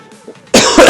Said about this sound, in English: I apologize, I have a cough.